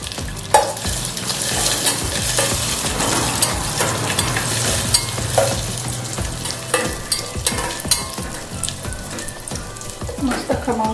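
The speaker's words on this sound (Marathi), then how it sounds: "त्यात आपण ही चारोळी तुपामध्ये छान भाजून घ्यायची" Charoli nuts roast in ghee with a dense, continuous crackling sizzle, broken by repeated scraping stir strokes close by, with no voices.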